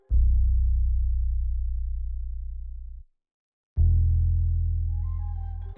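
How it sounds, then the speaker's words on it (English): Synth bass one-shot in mono playing a simple root-note pattern: two long, loud, deep sustained notes, the first about three seconds and fading, then a gap, then a second note with brighter upper tones, no voices. "The last sound that I added was just a bass."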